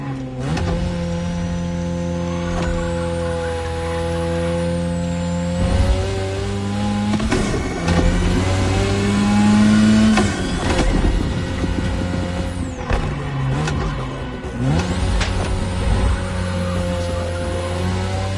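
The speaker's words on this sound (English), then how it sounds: "Tonight your ride is a 3rd Gen 2002 Mazda RX-7. Lightweight, compact, a sick rotary engine" Video-game Mazda RX-7 third-generation 2002 with a rotary engine, loud and close, revving up through gears in rising harmonic sweeps with brief drops at shifts, then climbing again, no talk.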